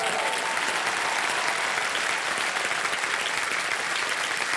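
A studio audience on the KBC quiz show claps loudly and continuously, a dense, even wash of applause with no voices heard.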